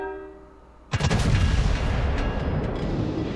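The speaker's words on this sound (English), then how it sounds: "Now I am being shot at." Incoming battleship shells in World of Warships strike near HMS Vanguard, a sudden heavy boom breaking a quiet hum and rolling into a long rumbling barrage of blasts and crackling debris that stays loud to the end.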